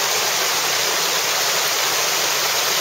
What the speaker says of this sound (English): That really looks like a cave with a waterfall beside it.